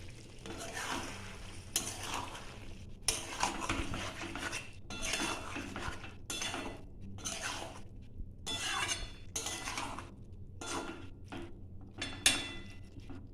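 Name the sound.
stirring fish curry in a pan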